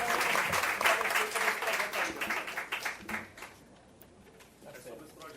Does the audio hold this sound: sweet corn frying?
no